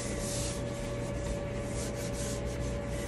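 Powder being rubbed by hand into the surface of an acrylic pour painting to lift silicone residue, a steady soft continuous rubbing hiss throughout, close and alone with no talk.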